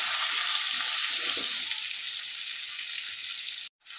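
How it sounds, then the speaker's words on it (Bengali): Potatoes seasoned with salt and turmeric fry in a pan for a light prawn and string bean dish, giving a steady, close hissing sizzle that runs unbroken until a brief cut near the end. "এবার আলুটাকে একটু ভেজে নেব।"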